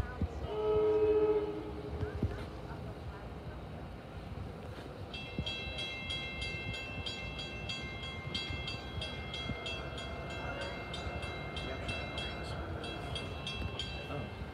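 A train rolls past nearby at Princeton Junction station, New Jersey, a steady rumble with rhythmic clatter and bright metallic squeals; a brief horn-like tone sounds near the start.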